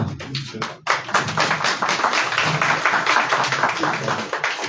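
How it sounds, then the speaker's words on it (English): Clapping breaks out among people at a parliamentary hearing, a quick, fairly close patter of hands that starts sharply and holds as a steady, uneven round. "Why are you clapping?"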